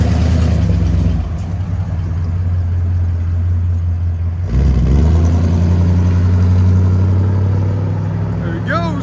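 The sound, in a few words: 1955 Ford Crown Victoria 292 V8 engine with Flowmaster exhaust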